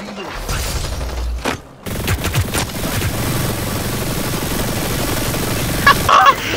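Rapid, sustained gunfire fills the video game Hyper Scape after a short gap, loud and dense, with a voice briefly heard over the shooting.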